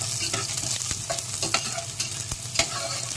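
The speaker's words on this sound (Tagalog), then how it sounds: "igisa natin ng bawang" Garlic sizzles as it is sautéed in a pan that already holds onions, with a steady frying hiss and scattered stirring scrapes and clicks over a low hum.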